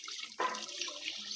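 Water runs briefly from a household tap, a faint, soft splashing stream that lasts only a moment.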